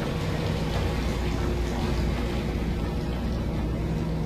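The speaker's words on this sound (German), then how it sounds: "Hier regnet's rein, hier müssen wir wieder das Dach abdichten." Steady rain hisses and patters without a break, leaking into a room through the roof in the game Dead Space, a dense, even wash of drops with a low rumble beneath.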